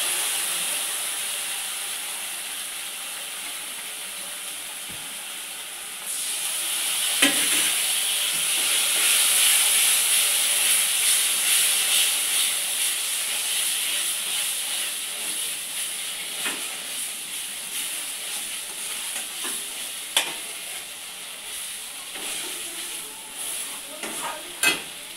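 Spiced masala with radhuni seed paste sautéing in a pan, a steady bright sizzle and hiss that swells partway through, with occasional scrapes and clicks of stirring and no talking.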